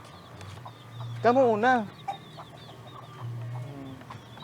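A hen with her chicks clucking close by in a rural yard, a short loud run of squawking clucks in the middle with softer calls around it, while a person speaks briefly.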